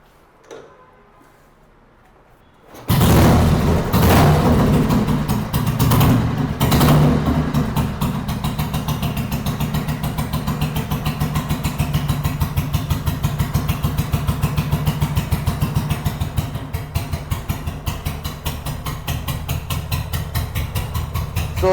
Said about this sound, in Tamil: வெஹிக்கிள் இப்போ நான் ஸ்டார்ட் பண்ணி காமிக்கிறேன்.